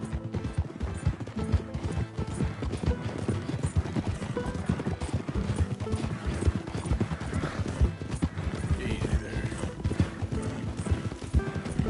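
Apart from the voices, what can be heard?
donkey hooves clopping in video game Red Dead Redemption 2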